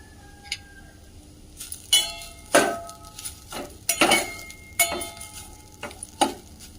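A spoon scrapes and clinks against a pan while ground coconut fries in ghee, giving intermittent stirring strokes that come close and fairly loud against a quiet background.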